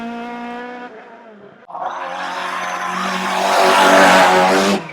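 A Ford Escort rally car on a hill climb, a loud tonal engine whine that cuts out briefly and then rises into a harsh, building roar as the car accelerates up close.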